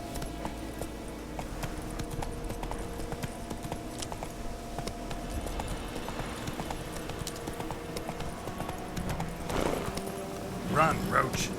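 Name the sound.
horse Roach galloping in video game Witcher 3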